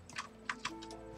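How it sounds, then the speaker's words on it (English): A loud mechanical computer keyboard clacks through a short burst of quick keystrokes, five or six sharp clicks close to the mic over a faint steady background hum. "I apologize for my loud keyboard. Like I said, it's a mechanical keyboard"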